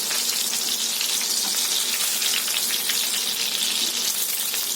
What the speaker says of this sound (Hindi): आप यहाँ देख सकते हैं कि ये कबाब सिकने लगे हैं।